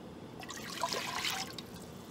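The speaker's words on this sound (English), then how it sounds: "Now we're going to put in the rest of our milk." Milk pours into a pan for a macaroni cheese sauce, a soft liquid trickle rising and fading over about a second, faint and close with a quiet background hum.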